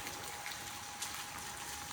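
Rain falling steadily at the hill station of Mahabaleshwar, a soft, even patter heard faintly throughout with no talking.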